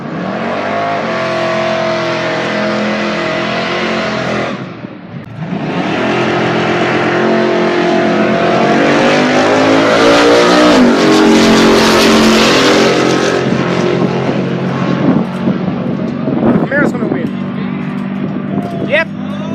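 Dodge Hellcat engine revving loud and close at a night drag strip, building into a sustained high roar as it races, with a brief dip before climbing again; crowd chatter and speech mix in underneath.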